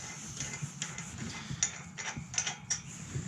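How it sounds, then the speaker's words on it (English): Nuts are undone from bolts on a metal horse paddock gate with a wrench, producing quick ratcheting clicks and small metallic creaks in uneven bursts, close and moderately quiet. "the next thing we do is we've got to take off these bolts. or nuts, sorry."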